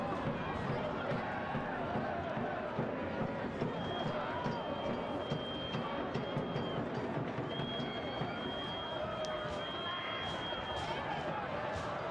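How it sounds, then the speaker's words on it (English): A football stadium crowd at a Hartford Athletic versus Pittsburgh Riverhounds SC soccer match, a steady roar of cheering and chatter filling the whole stretch, with a commentator talking over it. "Listen to how the crowd is into the game now."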